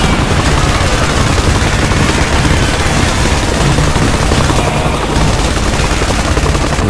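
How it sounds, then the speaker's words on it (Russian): A helicopter in the ISDefense game fires its machine gun in a dense, continuous rattle of gunfire that stays loud and unbroken throughout, with distant explosions and rotor noise mixed in. "Вертолет, хорошо, что еще вертолет там косит их"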